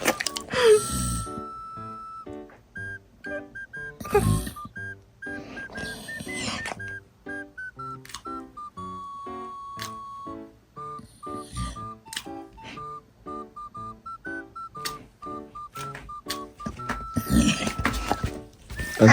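Retriever dog letting out a long run of odd, high, tonal whines in short repeated bursts, with occasional louder noises and brief voices between them.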